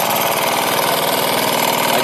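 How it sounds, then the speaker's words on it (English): A 1996 Kinetic TFR moped engine idles close by with a steady, rapid putter, running evenly and alone with no talk. "Runs really clean, idles well."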